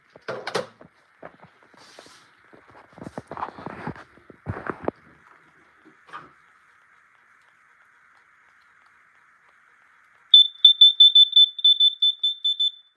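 Several knocks and clattering handling noises come first, then after a quiet gap a smoke alarm under test gives a rapid series of loud, shrill, evenly spaced beeps close by.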